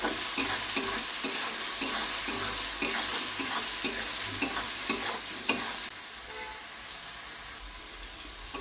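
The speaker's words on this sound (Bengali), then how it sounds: "এবার ভালো করে আলুগুলোকে ভেজে নেব" Potatoes with turmeric and salt fry with a constant sizzle, broken by regular scraping stirs, then the sizzle continues more quietly near the end.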